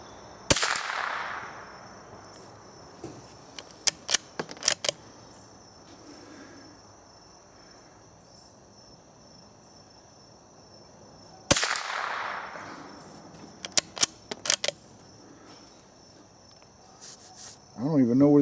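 A .22 rifle fires old vintage ammunition outdoors: two sharp, loud reports about eleven seconds apart. Each one rings out over a steady insect chorus and is followed by a few faint clicks and knocks. Brief speech is heard near the end.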